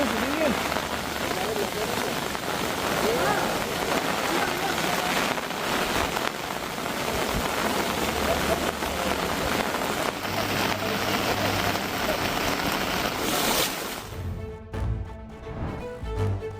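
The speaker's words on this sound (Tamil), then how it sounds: "குஜராத் மாநிலம் சூரத் நகரில் கொட்டி தீர்த்த கனமழை." Heavy rain pouring steadily in Surat, Gujarat, a dense, continuous hiss of water hitting surfaces that stays loud for most of the stretch, then gives way near the end to a different, quieter sound.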